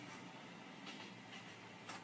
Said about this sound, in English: now I hear the train coming